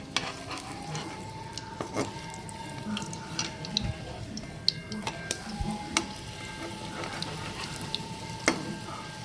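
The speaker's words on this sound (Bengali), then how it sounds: "এবার এটাকে আমরা এরম করে কোট করে আমরা তেলে ছেড়ে দেব। এটাকে একটু ভালো করে ভাজবো আমরা।" Coated bread pakoda deep-frying in hot oil, a steady close crackle and fizz running throughout with scattered small pops and utensil clinks, moderately quiet and without talk.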